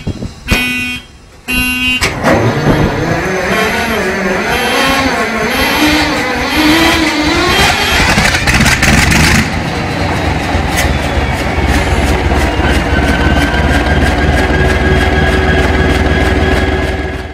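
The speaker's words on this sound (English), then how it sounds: "this is diesel locomotive cold start." A large diesel locomotive engine cold-starts, cranking over with a few sharp bursts, then catches and settles into a loud, steady low rumble that continues to the end.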